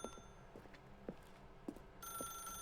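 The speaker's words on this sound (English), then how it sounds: "I'm gonna wait here for, like, 5 more rings." A telephone in the video game Stanley Parable Ultra Deluxe rings in short repeated bursts, four quick electronic chirps spaced evenly, fairly quiet with a steady tone entering near the end.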